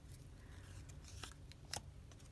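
Quiet, crisp snips of scissors slicing through paper, a few separate cuts spaced irregularly, close by.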